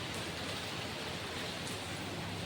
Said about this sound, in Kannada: ಈಗ ಅರ್ಲಿ ಮಾರ್ನಿಂಗ್ ಎಕ್ದಮ್ ಮಳೆ